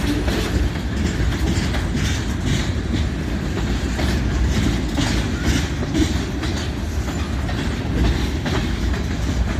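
A freight train rolls steadily past with General American tank cars and other railcars, a continuous rumble with wheel clickety-clack repeating throughout, fairly close and loud, no voices.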